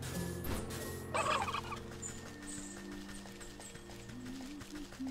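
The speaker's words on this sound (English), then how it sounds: "Turkeys." Turkeys gobble in the video game Wytchwood, a rapid warbling burst standing out over a steady ambient game background, with faint footstep-like clopping underneath.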